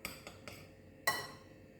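A spoon strikes and scrapes inside a bowl of mixed nuts and flax seeds: three light clinks, a short pause, then one sharper clatter that rings briefly, close and quiet with no voices.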